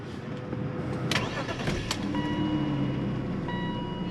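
A BMW with a 5-speed manual gearbox, sitting unused for about a week, cranks with a few sharp starter whirs, then catches and settles into a smooth, steady idle close by, with no talking.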